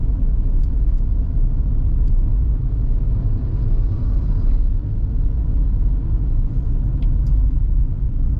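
From inside a learner driver's car on a city street, a continuous low engine and road rumble carries steadily, with faint small knocks now and then.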